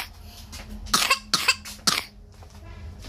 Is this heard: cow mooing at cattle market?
no